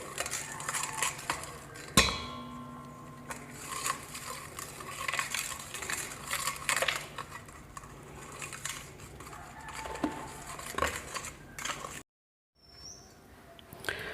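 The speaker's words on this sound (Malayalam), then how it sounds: "കുറച്ച് ആഡ് ചെയ്യുക, നമ്മൾ നന്നായിട്ട് ഇതിനകത്ത് ഇളക്കി കൊടുക്കാം." A utensil stirs stone powder into coconut oil for cold process soap, giving steady close scraping and clinking against the container, with a sharp knock near the start and a brief silence near the end.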